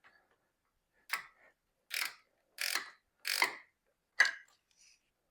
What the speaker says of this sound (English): Go ahead and sneak in a 10mm wrench to get this nut off here.